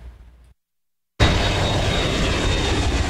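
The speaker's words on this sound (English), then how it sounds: "As the planes at San Antonio International come and go," A plane at San Antonio International Airport roars loudly and steadily after a brief quiet gap, a close, continuous engine rumble with no voices.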